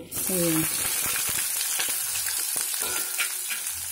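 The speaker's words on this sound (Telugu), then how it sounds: "ఆవాలు జీలకర్ర వేగిపోయి కదా" Mustard seeds and cumin frying in hot oil, an immediate loud, continuous sizzle with scattered sharp pops and crackles that holds steady throughout, heard up close.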